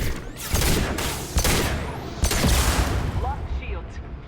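Gunfire crackles in Mass Effect 2 as bursts of shots and impacts in rapid clusters, fairly loud against game effects, with a voice speaking over part of it.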